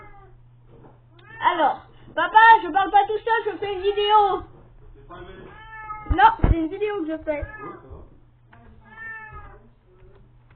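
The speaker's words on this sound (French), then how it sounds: "c'est mon chat qui miaule" A cat meows several times indoors, drawn-out wavering cries, close and fairly loud, alternating with a young person talking and a faint steady hum in the background.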